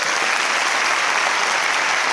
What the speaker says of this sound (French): Applaudissements pour Naïma